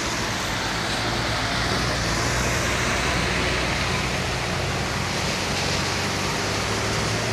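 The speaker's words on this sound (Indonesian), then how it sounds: "Yo, Baris. Bus pariwisata." An Insom Trans tourist bus passes on a slick road, a steady broadband roar of traffic and engine rumble holding near and constant throughout, with no voices.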